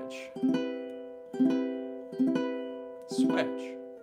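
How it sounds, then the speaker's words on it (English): A ukulele is strummed in sets of four evenly spaced down-strums, each chord ringing bright and clear close to the microphone, with short gaps where the player switches chords. "and let's try strumming four times on each one."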